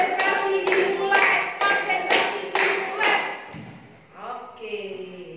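Classroom clapping pattern for concentration: six evenly spaced loud claps in a steady rhythm, followed by children's voices chanting.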